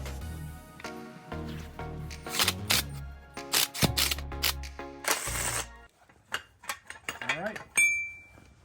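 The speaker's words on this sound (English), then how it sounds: "So a 1¼ inch socket is the magic trick to getting these old bushings pressed out." Metallic clanks, ratcheting clicks and knocks as old bushings are pressed out with a 1¼ inch socket while restoring a Ford F150 front 4x4 axle, irregular and close with brief silences.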